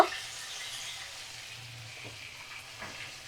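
Ginger garlic paste fries over a medium flame and is stirred in a pan, making a soft steady sizzle with occasional scraping stirs close by.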